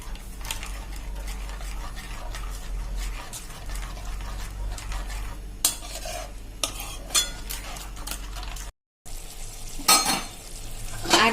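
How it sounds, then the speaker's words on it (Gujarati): Yogurt gravy for a potato curry stirred fast in a pan over a high gas flame, with a rapid run of spoon scrapes and clinks against the metal over a low sizzle and steady hum, briefly cut off, then resuming louder. "ફૂલ સ્પીડે આપણે દહીંને ચલાવતા રહેશું જ્યાં સુધી ઘટ ન થાય ત્યાં સુધી આપણે આને ચલાવશું."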